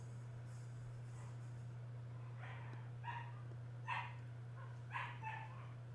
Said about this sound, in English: the puppies are having some sort of ruckus